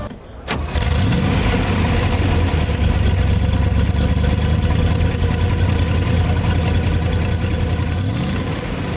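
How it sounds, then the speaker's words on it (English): A Corvette Stingray engine starts with a sharp burst, then settles into a deep, rumbling idle that stays loud and steady throughout. "We need to hear that exhaust note."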